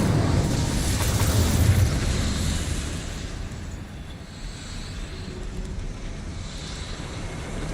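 Incendio fire spell cast in Hogwarts Legacy: a loud roaring whoosh of flame at the start that fades into a lower, steady rumble, with no voices.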